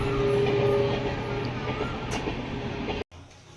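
A train passes on an elevated track overhead, a steady loud rumble with faint rhythmic clatter that continues until it is abruptly cut off, leaving quieter ambient noise.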